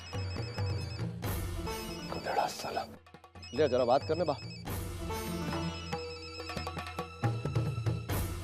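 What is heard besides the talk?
mobile phone ringing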